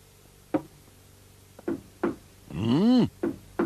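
Several sharp knocks on a door, spaced irregularly, interrupted by a loud rising-and-falling wavering cartoon sound in the middle, with a couple more knocks after.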